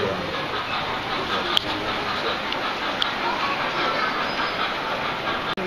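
A steady rumbling, rolling rush of a model train runs continuously with a couple of faint clicks, filling a museum exhibit room at moderate loudness.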